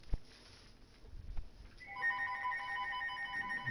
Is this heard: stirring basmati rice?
no